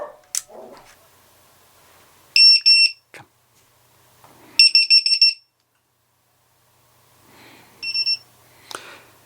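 A ViFly Beacon drone locator sounds its alarm in three separate bursts of rapid, piercing high-pitched beeps, loud and close, with short quiet gaps and faint handling noises between them.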